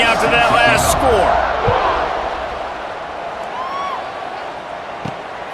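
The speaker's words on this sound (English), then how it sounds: "this crowd is buzzing after that last score" Stadium crowd in EA Sports College Football 26 buzzes with a steady roar that swells early and slowly eases, with a sharp thud and whistle-like tones during a kickoff, under play-by-play commentary.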